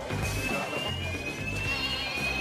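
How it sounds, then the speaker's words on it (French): A steady high electronic tone of a fire alarm sounding continuously over a dense, noisy background. "C'est l'alarme incendie."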